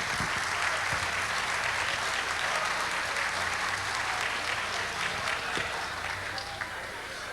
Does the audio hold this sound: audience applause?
yes